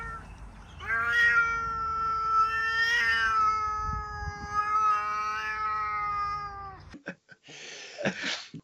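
Several cats meow from close by in long, loud, wavering cries that run almost without a break, followed by a short stretch of scuffling noise.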